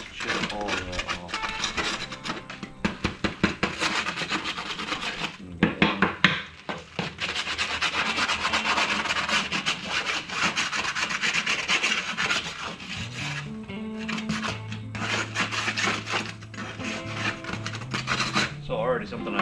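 Steady hand rubbing and rasping across a salted ram hide for a Catalina ram pack mount, scraping off excess salt in repeated close strokes, with brief pauses and uneven bursts of friction.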